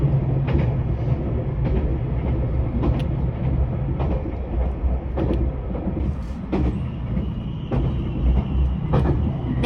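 A Yakumo 273 series limited express train runs on the Hakubi Line just before Adachi station, giving a steady, loud rolling rumble with recurring sharp clicks and knocks from the wheels over the rails.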